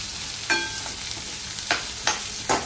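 Coconut, whole spices, coriander, mustard, cumin, onion and red chillies dry-roasting in a pan for crab curry, with a soft steady sizzle and a few brief scraping stirs spaced through the short stretch, no voices.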